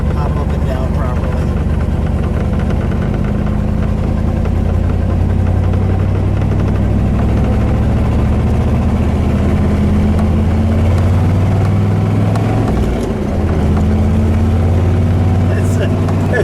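A 1969 Chevrolet Corvette with the L89 427 big-block V8 and four-speed runs steadily, a loud, continuous low engine drone with rising and falling tones as it revs, while people talk over it.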